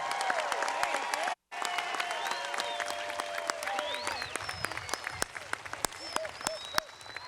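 A graduation crowd applauds the commencement speaker at a Class of 2020 ceremony, lively clapping mixed with scattered cheers and whistles, briefly cut to silence near the start before resuming.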